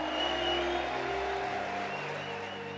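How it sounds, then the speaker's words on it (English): A large political rally crowd gives a round of applause for Turning Point USA students, a soft, dense wash of distant clapping sustained over a steady low hum. "I want our Turning Point USA students to receive a round of applause"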